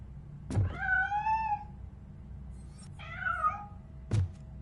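A cartoon cat gives two rising-and-falling meows, one long and one shorter, each set off by a sharp thump, in a RoboCop animated episode with no talking.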